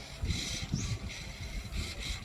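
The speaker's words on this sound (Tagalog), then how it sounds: "mag-stay into 90 degrees ang servo motor pag maka-detect ang motion ng middle sensor" A servo motor swings a motion-activated fan driven by PIR sensors, making short whirring, ratcheting mechanical bursts in a repeating rhythm, close and moderately quiet, with no talking.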